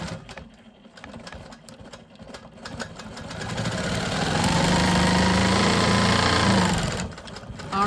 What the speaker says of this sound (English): I'm gonna go ahead and finish quilting this